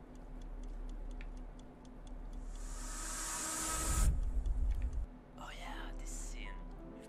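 Video game clocks falling in a scene where it rains clocks: quiet, regular ticking gives way to a rising hiss and rush that swells and cuts off abruptly, followed by softer whispery sounds.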